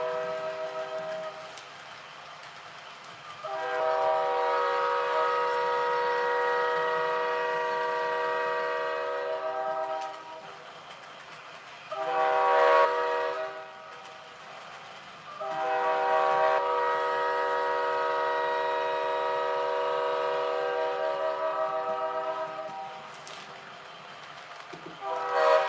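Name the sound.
train horn recording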